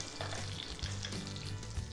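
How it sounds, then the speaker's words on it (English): Shrimp sizzle steadily in a hot pan, a continuous low frying hiss with soft crackles running throughout, close and fairly quiet, with no voices. "The shrimp are cooking nicely, you can see in the pan."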